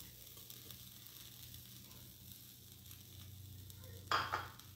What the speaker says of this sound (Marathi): आणि या रव्यासोबतच हा खवा छान भाजला जातो।